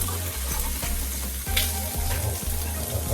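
Shrimp sizzle steadily while sautéing in a pan for Jamaican jerk shrimp Rasta pasta, with a continuous close frying hiss and occasional stirring clinks and scrapes; no one talks.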